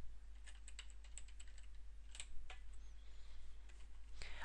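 Rapid keystrokes on a computer keyboard as a password is entered, a quick burst of clicks early on, then a few scattered taps and one final sharper key press, fairly close and quiet over a low steady hum.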